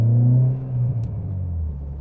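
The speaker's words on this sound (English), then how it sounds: "It's got pops and bangs. Not sure why. But I mean, it bangs a fair bit," An old £500 budget car's engine drones at close range, its pitch dipping and shifting as the revs change, with one faint sharp pop around the middle.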